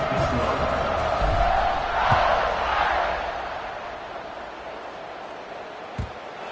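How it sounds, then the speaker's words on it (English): A football stadium crowd at a Notre Dame versus Oklahoma State game buzzes and cheers before kickoff, a broad roar that swells and then fades into a lower murmur, with a few sharp thumps. "They're set to kick it off, and this crowd now ready to get behind them."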